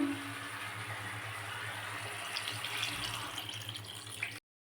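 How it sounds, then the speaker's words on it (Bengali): Water pours steadily into a pot of curry being cooked for a Bengali Sunday lunch, a continuous close splashing stream for about four seconds before it cuts off abruptly. "এবার আমি জল দিয়ে দিচ্ছি এতে"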